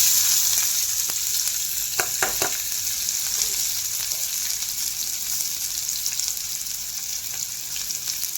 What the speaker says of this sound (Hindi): प्याज को टिके गोल्डन कलर थवा पर्यंत टिके भाजवा।